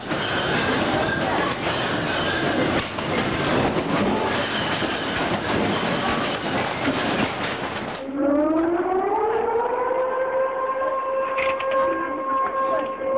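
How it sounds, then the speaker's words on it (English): A loud, clattering rumble from the 2011 Japan earthquake gives way to a wailing tsunami warning siren whose tones rise and then hold steady, blaring from a distance. "only to hear the sirens warning of the impending tsunami"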